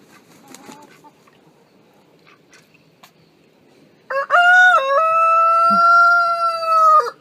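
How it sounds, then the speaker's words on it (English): A rooster crows loudly and close by, one long drawn-out call after a quiet stretch with faint background noise. "That's Rooster. He does that all day long"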